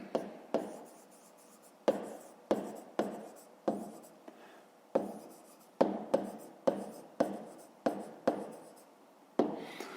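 Pen strokes writing out a fifth-grade math solution by hand, a run of sharp scratchy marks in irregular bursts with short pauses between them, close and fairly quiet, with no talking.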